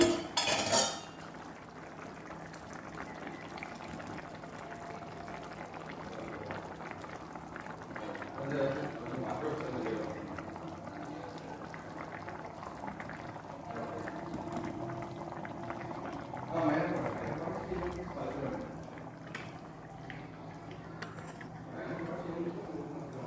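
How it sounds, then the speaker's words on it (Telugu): Fish pieces dropped into a simmering tamarind broth, with a soft continuous bubbling under occasional clinks and splashes as pieces go in, while a person talks over it. "పులుసు టూ మినిట్స్ ఉడికింది ఇప్పుడు చేప ముక్కలు వేస్తున్నాను"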